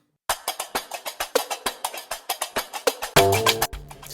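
A looped Gnawa groove of crisp, rapid metallic clacks in a steady rhythm, ending with a short burst of deeper plucked, tonal notes.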